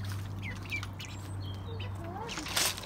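Ducks quack and squawk around a backyard duck pond, with a few short calls scattered across a steady outdoor hum and a louder burst near the end.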